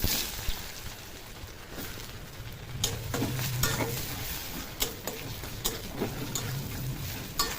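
Chopped onion and whole white cumin seeds fry in hot oil left from frying eggs, giving a steady close sizzle broken by sharp spatula scrapes and taps against the pan, with no voices.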